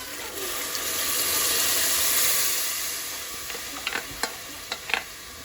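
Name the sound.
pouring water into a pot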